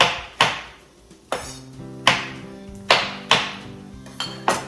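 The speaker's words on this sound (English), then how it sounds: "I've got mushrooms that I'm just gonna kind of roughly chop" A knife chops mushrooms roughly on a cutting board in about seven sharp, evenly spaced knocks that ring briefly, close and clear with no voices.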